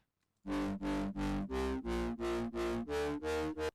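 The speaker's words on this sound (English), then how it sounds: "first I'm gonna add distortion, just bring it all the way up" A heavily distorted synth plays nine evenly spaced, buzzy chord stabs in a steady rhythm, loud and harsh, with no talking.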